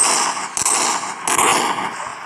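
Beretta pistol in a video game fires a few sharp, loud shots, two prominent cracks about a second apart over a busy, noisy background.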